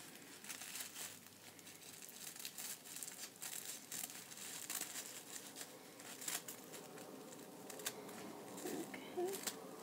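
Scissors snip through tissue paper to shape rounded petal edges, with faint rustling and crinkling and soft, irregular cuts close by.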